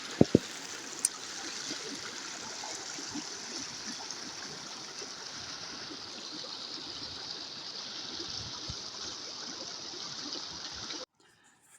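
A river flows near a cave in open countryside, a steady close rush of water throughout, with a few sharp knocks at the start before it cuts off at the end.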